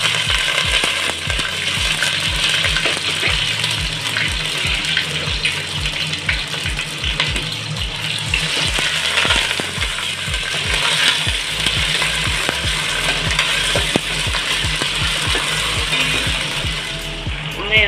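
Onions and curry leaves frying in hot oil for a prawn curry with lentil dumplings, giving a loud, steady sizzle throughout, with a spoon clattering against the pan now and then and no one talking.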